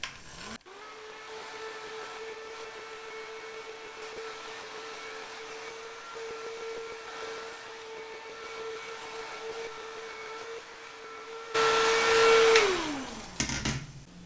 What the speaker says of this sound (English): I'm gonna hit it again with the hairdryer, my bedhead, just kind of in some wet spots and speed this up.